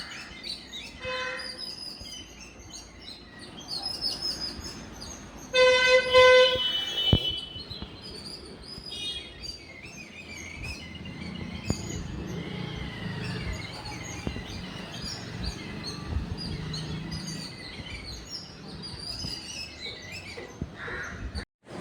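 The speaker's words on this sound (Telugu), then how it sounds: "చూసారు కదా బర్డ్స్" Sparrows and parrots chirping around a home, scattered bursts of bright calls near and far, with a loud shrill flurry partway through over faint background noise.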